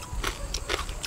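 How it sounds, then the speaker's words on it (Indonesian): Oven-roasted crispy pork skin crunches as it is bitten, with three or four sharp, close crackling bites spaced apart over a quiet background. "Dia punya kulit jadi keropok kriuk-kriuk."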